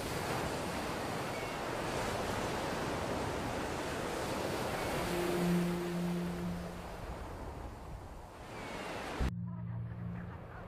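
Ocean surf rolls onto a Brittany beach in stormy October weather, a broad continuous roar of waves with gusting wind buffeting the microphone, and a low hum appearing briefly near the end.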